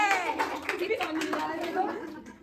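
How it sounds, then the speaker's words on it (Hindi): Audience applauding, a steady patter of handclaps with chatter and children's voices mixed in throughout, fairly close and continuous. "ताली हो जाए एक बार इन लोगों के लिए।"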